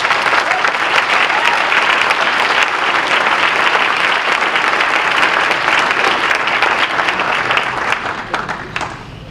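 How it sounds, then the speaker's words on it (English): A dense, loud round of applause from a crowd at a coronation ball, steady and full for most of its length before tapering slightly at the close. "Give them a round of applause."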